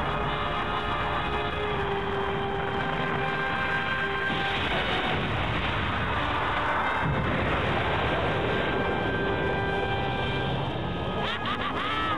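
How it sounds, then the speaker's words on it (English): Fireworks bursting during a cutscene movie in the Dragon Ball Z Ultimate Tenkaichi video game, a dense, continuous rumble of booms and crackles with steady loud energy throughout, no speech over it. "Look at the fireworks! Aren't they splendid?"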